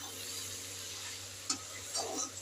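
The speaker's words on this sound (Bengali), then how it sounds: "ভালো করে এবার আমি নেড়ে নেব।" Banana flower (mocha) stirred with fried potatoes in a pan, a faint low sizzle with a few soft spatula scrapes and clinks, quiet and close.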